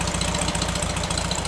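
A 1971 VW Bus engine fitted with new dual 34 ITC carburetors idles steadily, its low, even chugging pulse running unbroken and close throughout.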